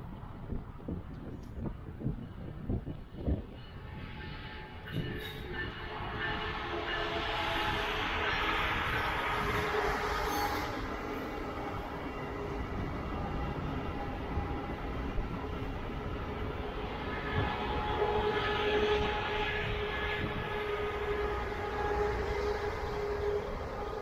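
A Brightline passenger train rumbles into West Palm Beach station and rolls steadily past at close range, a continuous heavy mechanical roar with a faint tonal hum, no voices.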